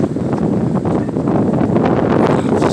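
Strong wind gusting across southwest Las Vegas, a loud, continuous roar buffeting the microphone with no letup and no voices.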